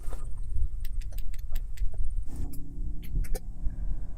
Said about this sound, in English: Using the key fob, press the middle lock button 3 times.